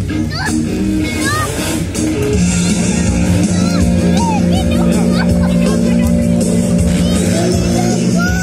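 Cars at a stunt show rev their engines and squeal their tires on a track, a loud and continuous roar, while an announcer talks over a buzzing crowd.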